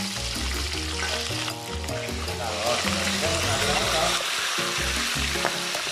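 Pork feet browning in a frying pan give a loud, dense, continuous sizzle and crackle, close up and steady throughout, with a faint voice underneath.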